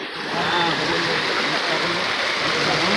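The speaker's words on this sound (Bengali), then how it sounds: "প্রচুর স্রোত জলের, এখানে রেস বেড়ে গেছে" Strong floodwater current rushing over a road and pouring into flooded paddy fields, a steady broadband roar of flowing water, loud and continuous throughout without a break.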